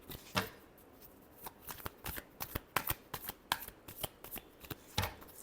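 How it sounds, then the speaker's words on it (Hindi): A deck of tarot cards is shuffled by hand in a quiet room, producing a run of soft riffling bursts and sharp card snaps, irregular but steady, close up and fairly faint, with no voice. "Last shuffle."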